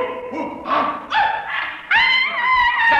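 Barking and yelping from a pack of long-haired sheepdogs, staged as a comic radio sound effect, comes in several bursts of high yips and whines over about three seconds, loud and close.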